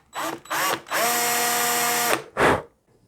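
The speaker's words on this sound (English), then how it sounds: "it's a lot easier to drill through with the standard drill bit." A guitar headstock being drilled through with a standard drill bit: a close, loud power drill whines in several bursts, two short, one long sustained run, then a final short burst.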